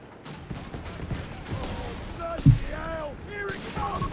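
Armored car auto cannon in Company of Heroes 3 fires rapid bursts amid scattered battle gunfire and explosions, with a sharp boom midway and a voice talking over the action.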